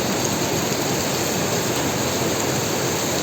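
Heavy downpour at a housing block in Amaia Scapes, Rizal, a dense, steady broadband wash of rain holding constant throughout with no voices.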